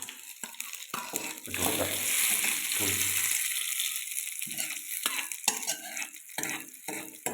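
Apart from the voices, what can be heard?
mustard seeds sizzling in hot oil for chutney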